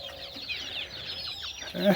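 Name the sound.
chickens clucking on a small farm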